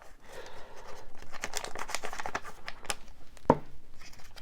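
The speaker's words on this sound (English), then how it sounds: "A bit of crunchy paper, crunchy crinkly." Paper being crinkled and crunched close by, a steady rustling texture with one sharper crackle near the end.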